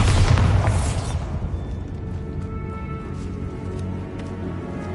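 A Bombarda spell blast in the video game Hogwarts Legacy lands as a heavy, close boom in the opening second, then fades into a long, low rumbling tail.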